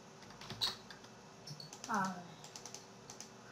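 Faint, scattered clicks of someone typing on a computer keyboard late at night, a few keystrokes spread out with brief quiet gaps, and a short burst of voice partway through.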